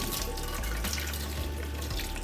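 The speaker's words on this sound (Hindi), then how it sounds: "अब ये जो आलू मैंने पानी में सोक करके रखा हुआ था ना, इसे ड्रेन कर देंगे" Water from soaked potatoes pours and drains steadily into a kitchen sink, a continuous close splashing flow with no talking.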